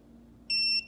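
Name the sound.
tire pressure monitor beeping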